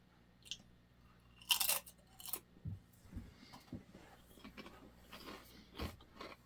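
Someone bites and chews crunchy 1990s-era Doritos tortilla chips up close, giving a sharp crack followed by a series of irregular, quiet crunching chews with no talking.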